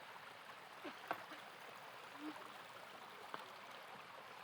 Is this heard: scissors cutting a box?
no